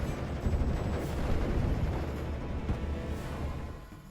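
Distant artillery and gunfire rumble in a World War II strategy video game, with a Flak 88 nearby, forming a steady, muffled low roar with faint scattered impacts and no voices.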